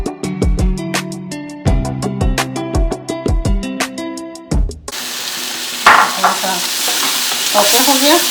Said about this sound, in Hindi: टमाटर को भी 2-3 मिनट सौते करके